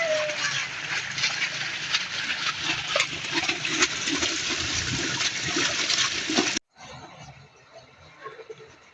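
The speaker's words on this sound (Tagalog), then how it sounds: "bilis lang bumaba ng tubig kapag didos ang drain" Water drains and splashes out of a concrete tilapia pond in a steady broad rush, then cuts off abruptly near the end to a quieter trickle.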